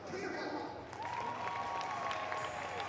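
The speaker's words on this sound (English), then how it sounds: "And there's a big round of applause for Boll on the outside." A crowd at an athletics track meet applauds steadily, a continuous wash of clapping heard beneath a commentator's voice.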